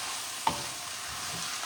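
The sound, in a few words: stirring and browning crumbles in a pan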